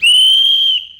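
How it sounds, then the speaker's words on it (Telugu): Loud, sustained shrill whistle from a comedy show audience welcoming performers on stage, one steady high tone held for nearly a second before fading out. "whistle whistle whistle"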